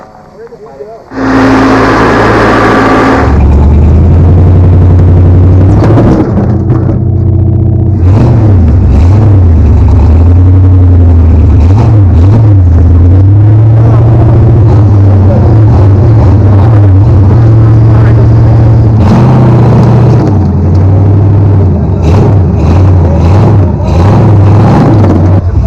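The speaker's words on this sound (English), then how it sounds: "Drags his Chevy over about half of the mini Rubicon before they snap the front drive shaft." A Chevy truck at a 2002 Top Truck Challenge rock crawl roars loudly and close, its engine revving and climbing in repeated surges over a long stretch, with a voice talking underneath.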